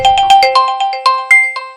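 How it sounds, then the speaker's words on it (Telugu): A mobile phone ringtone plays loud and close, a bright repeating melodic chime of quick tones ringing on for a couple of seconds. "ఫోన్ వస్తుంది"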